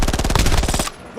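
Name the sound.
gunshot fired in the video game Warzone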